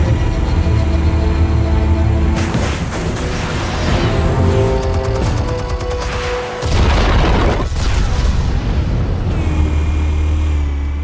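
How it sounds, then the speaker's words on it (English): Explosives detonating in Batman: The Telltale Series, heavy loud booms and rumbling blasts rolling one after another with a deep low roar between them, no voices. "Explosives armed. Fire when ready."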